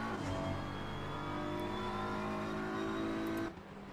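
GT3 race cars, including a BMW and an Audi, lap Oulton Park in a racing sim game. A loud, steady engine drone holds at high revs, then drops away abruptly near the end, with no talk.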